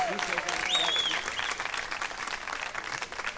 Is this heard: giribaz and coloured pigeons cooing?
no